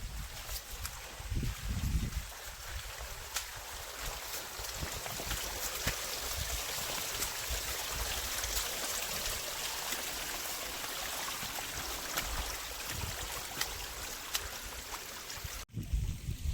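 Rainwater spilling over from a full stone water tank at Rajmachi hill fort in monsoon rain, a steady broadband rush and trickle of flowing water close by, continuous throughout with no talk.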